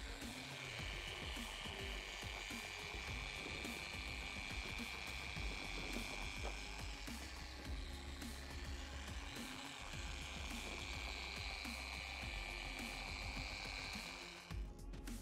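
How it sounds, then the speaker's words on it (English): Car polisher worked with light pressure in a cross-hatch pattern over the paintwork of a dirty Mini during a detail, giving a steady close machine whir with continuous grinding texture throughout. "So just a light pressure and then maneuver the polisher around, making sure you cross-hatch it,"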